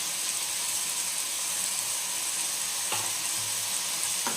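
Vegetables fry with turmeric in a pan for a shorba curry, a steady close sizzle throughout with a couple of brief clinks of a spoon or lid near the end.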